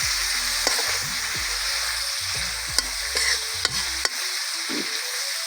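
Large pieces of Kadaknath black chicken fry in a pan, cooked adivasi style, with a steady sizzle broken by sharp scraping stirs and spoon knocks, close and moderately loud, and no talking.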